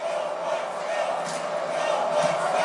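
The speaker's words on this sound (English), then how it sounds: "And crowd chanting for Go Bucks Go." A basketball arena crowd in NBA 2K19 chants "Go Bucks Go" during a Magic vs Bucks game, heard as a steady, dense roar of many voices at moderate loudness.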